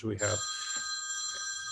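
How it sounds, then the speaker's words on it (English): A telephone rings with a steady electronic tone that carries on after a man's brief speech at the start, then continues alone. "telephones ringing. Whose is that?"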